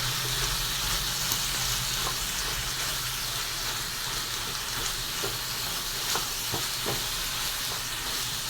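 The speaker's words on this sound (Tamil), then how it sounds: "இப்போ போட்டு நல்லா கிண்டி விட்டுக்குருவோம்" Goat intestine chukka fries in a pan while being stirred, giving a loud, steady sizzle with scattered scraping clicks from the spoon and no talking.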